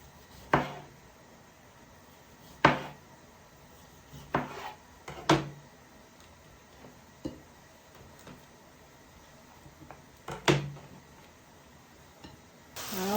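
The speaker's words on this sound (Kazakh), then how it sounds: "Қызанақты дөңгелектеп турап аламыз" Knife slicing a tomato into rounds on a board, a series of sharp separate knocks and clicks spaced a second or two apart, quiet in between, with no talking.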